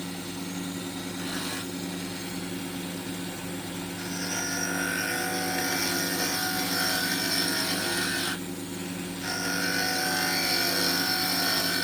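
Skew chisel cutting HempWood on a wood lathe, a steady whirring lathe drone with a brighter scraping cut rising and falling over it, close and fairly loud, with no talk.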